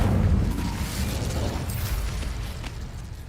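Incendio fire spell blasting apart rocks in Hogwarts Legacy, heard as a loud burst of fiery crackling roar that holds steady and slowly fades over a few seconds.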